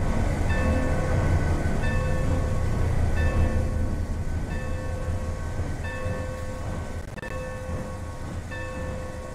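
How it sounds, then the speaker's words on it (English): Four locomotives running light on a railroad, with a steady loud rumbling roar of engines and wheels throughout, overlaid by sustained tonal whine, with no voices. "all four locomotives are running light"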